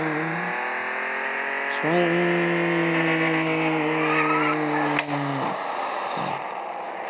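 Police car in the Dude Theft Wars video game, an engine revving in rising and falling pitch with tire squeals and skids, loud and close, with a voice talking briefly.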